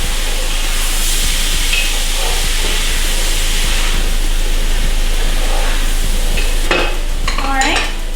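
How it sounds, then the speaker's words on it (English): Locro stew stirred in a pot over high heat, a loud continuous sizzle and hiss with the spoon scraping, and a few sharp clinks near the end. "Gonna turn the heat on a really high heat. Okay, just gonna mix it up."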